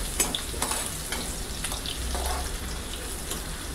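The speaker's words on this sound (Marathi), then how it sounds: "छान गोल्डन रंग येईपर्यंत आपण त्याला फ्राय करायचं आहे।" One large finely chopped onion fries in oil toward a golden colour, giving a steady, moderate crackling sizzle with light stirring scrapes and a few sharp pops, heard up close.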